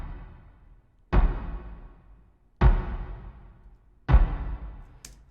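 Three deep, booming hits spaced about a second and a half apart, each decaying slowly, made by a violin processed to stand in for tom drums in a one-violin score for a Westworld-themed composition, with a short bright click at the end.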